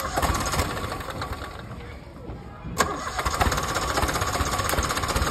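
A PC10 machine engine with a starting problem cranks, catches and runs on during basic diagnosis. The loud, rough, continuous mechanical clatter dips briefly and then picks up again with a sharp surge.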